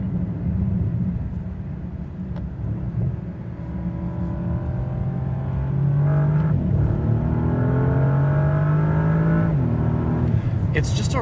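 A 2025 Bentley Continental GT Speed hybrid with a V8 engine accelerates hard on the road, its refined, crisp engine note climbing through the revs in a steady rising drone, loud and close with faint road rumble beneath.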